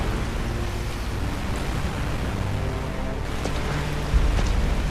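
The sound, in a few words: rain in the video game Resident Evil: Revelations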